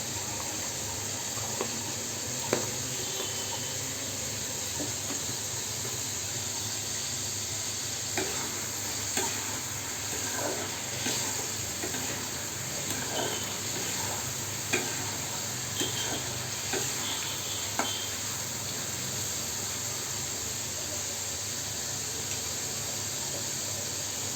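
Food is stir-fried with salt in a pan: a continuous, even sizzle under scattered sharp clicks and scrapes from a spatula working against the pan, with no talking.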